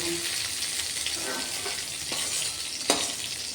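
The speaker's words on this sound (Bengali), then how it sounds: "একটু তেলটা ঘিটা চটচট করছে আর কি" Ghee crackling and sputtering in a hot pan just after raisins were fried in it, a steady close sizzle with scattered pops and one sharper snap near the end.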